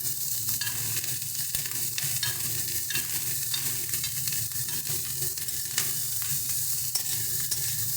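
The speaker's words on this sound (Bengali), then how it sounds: "ভালো করে ফুলকপি আর গাজরটাকে একদম ভেজে নেব" Cauliflower and carrot fry in a pan while being stirred, giving a steady close sizzle with repeated scraping strokes throughout and no talking.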